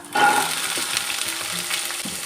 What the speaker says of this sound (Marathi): या एक मिनिटभर आपल्याला अशा परतून घ्यायच्या आहेत